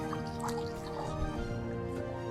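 Medication is stirred gently into water for treating catfish fingerlings and juveniles, giving faint, soft liquid swishes and drips close by.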